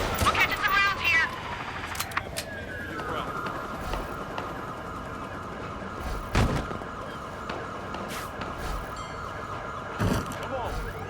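Gunfire in the video game Watch Dogs 2: a few sharp shots and short bursts crack out over a wailing police siren and game voices, some shots close and loud, others more distant.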